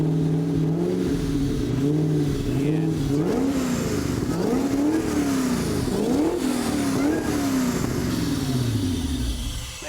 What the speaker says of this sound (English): You've got to love the sound of a supercharger, and this thing sounds healthy.